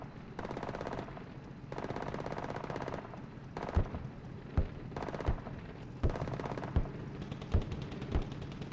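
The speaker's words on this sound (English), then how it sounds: "And T62 just firing on that MG position." Tank main gun and machine-gun fire from a T-62 hitting a machine-gun bunker in the Squad game, with long sustained bursts of rapid automatic fire followed by a series of heavy, evenly spaced booming shots.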